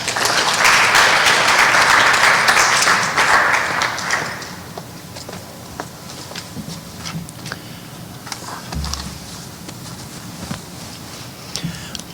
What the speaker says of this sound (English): Give the freshmen in class one last round of applause